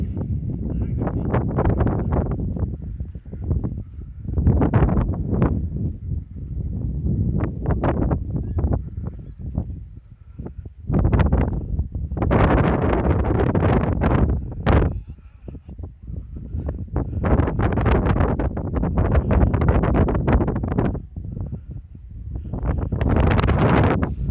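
Strong wind buffets the microphone in loud, roaring gusts that rise and fall during wing flying below Klínovec, with voices faintly audible between blasts.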